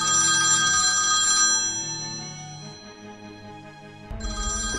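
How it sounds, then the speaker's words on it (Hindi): A telephone ringtone plays loudly and close, a bright electronic melody that fades briefly before starting again. "लो घंटी जा रही है, बात करो।"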